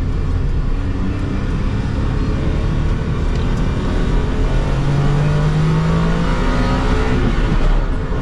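Honda Today MTrec small car engine revving loudly and continuously from close range, with a steady mechanical drone and a rising tone partway through.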